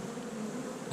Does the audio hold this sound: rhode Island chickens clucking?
no